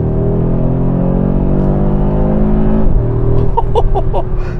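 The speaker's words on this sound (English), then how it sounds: "yes, this is the engine sound" A 2023 Audi RS3's five-cylinder engine accelerates hard, a loud, rising growl with a clear shift break partway through, then the revs climb again with a burbling, raspy edge.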